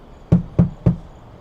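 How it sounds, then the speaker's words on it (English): Three evenly spaced knocks on a wooden door sound close and solid, followed by quiet. "At 6 o'clock, the wolf knocked on the little pig's door."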